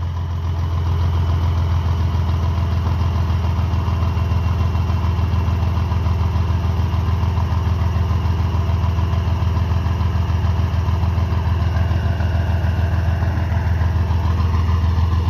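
A Mercedes-Benz 1621 truck diesel engine idles with a steady, low, even rumble that holds unchanged throughout, loud and close, with no voices.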